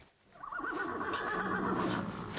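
A horse neighs in a stable, one long, close, wavering whinny rising after a brief quiet start, with no talking.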